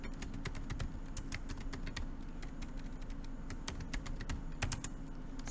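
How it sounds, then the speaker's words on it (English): Steady typing on a computer keyboard while entering text into a web page's HTML code, crisp key clicks in a continuous irregular rhythm, close and fairly quiet, with no talking. "Then you type in between,"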